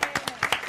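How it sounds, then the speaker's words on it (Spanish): A studio audience at a talk show claps, a brief burst of about seven distinct, fairly close hand claps in quick irregular succession. "¡Aplauso, por favor!"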